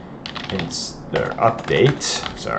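Fast, close clatter of keystrokes on a computer keyboard as a command is entered, an irregular burst of clicks lasting a couple of seconds, with no speech.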